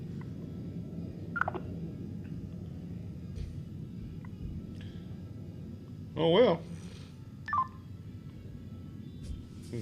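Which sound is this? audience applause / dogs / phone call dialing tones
phone call dialing tones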